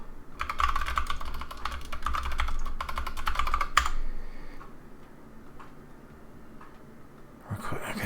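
Rapid typing on a computer keyboard in a quiet room, a dense run of close clicks for about four seconds, then a few scattered keystrokes and a low steady hum.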